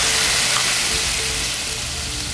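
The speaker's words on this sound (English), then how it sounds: "Next, I'll deglaze the pan with the cider" A hot pan for pork chops in a wood oven sizzles loudly and steadily as cider is poured in to deglaze, a dense, continuous frying hiss close up.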